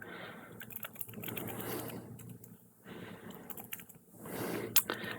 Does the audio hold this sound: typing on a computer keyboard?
yes